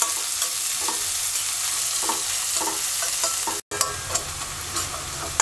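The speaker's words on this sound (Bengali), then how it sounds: "পেঁয়াজটাকে হালকা ভেজে নেব।" Two medium chopped onions fry in about four tablespoons of hot oil in a wok, giving a steady close sizzle with scraping stirs throughout and one brief cut to silence.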